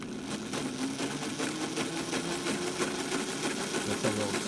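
A DIY electric go-kart motor runs under throttle, giving a faint, steady mechanical whine with a light rattling buzz and a slight pitch shift near the end.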